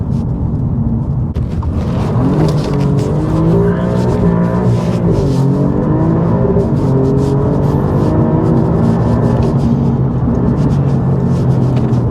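Alfa Romeo Giulia Quadrifoglio saloon driven hard on tarmac, its engine roaring loud and steady while tires squeal and skid through corners, close and continuous with no talk.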